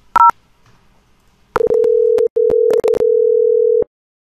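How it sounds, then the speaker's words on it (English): Softphone calling an IVR system over VoIP, starting with a short two-tone DTMF beep, then a steady, loud telephone tone broken by a few brief gaps and clicks before it stops, with no voices. "let's call the IVR."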